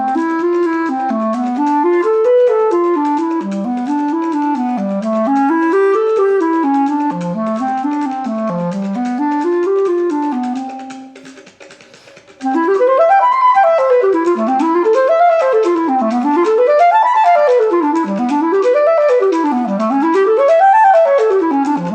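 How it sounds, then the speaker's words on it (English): A loud, continuous run of quick rising and falling arpeggiated notes outlines an A dominant chord with a major third within a jazz progression of diatonic fifths. There is a brief dip near the middle, and then the patterns return with a wider range. "A with the major third, and it sounds like this."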